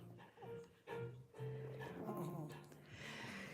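A small dog vocalizes close by, with short whimpering yips and soft barks over a few seconds, mixed with breathing and a voice talking in the background.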